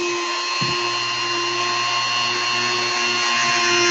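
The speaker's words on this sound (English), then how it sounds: "Dremel's too fast." A Dremel rotary tool runs steadily at high speed in a prop-making workshop, giving a continuous whining buzz with strong steady tones that shifts slightly in pitch partway through.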